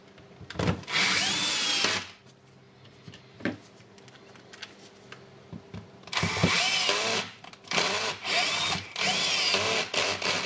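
A Milwaukee M18 mid impact wrench's power tool whirs in bursts, driving screws into the hammer housing: one short run, a pause with faint handling clicks, then several longer runs close up.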